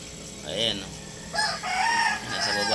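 Chickens on a rainy farm with a rooster crowing in repeated drawn-out calls, close and clear, mixed with clucking from the flock; a voice is faintly present in the background.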